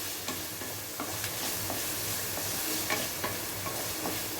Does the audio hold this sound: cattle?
no